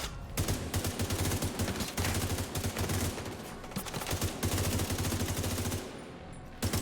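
Rapid, sustained gunfire from an on-foot weapon in the Elite Dangerous video game, a magazine emptied in dense, unbroken bursts that stay loud and close for several seconds before cutting off near the end.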